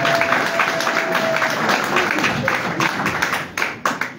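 Audience at a press conference applauding, dense continuous clapping from a crowd filling the room, thinning toward the end with a few sharper claps.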